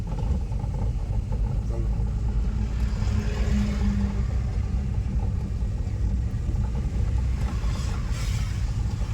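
A car pulls away slowly on an empty road as a driving learner eases off the clutch and gently accelerates, a steady low engine rumble running throughout with an instructor's voice over it.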